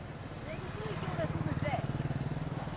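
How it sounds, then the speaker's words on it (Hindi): A motorcycle rides along a quiet railway station platform in rural Rajasthan, its engine putting out a steady low throb that grows slightly louder as it passes near, with someone talking over it. "बाइक भी जा रही है स्टेशन पे, मतलब प्लेटफॉर्म पे बाइक जो है ना वो भी लोग लेके जा रहे हैं"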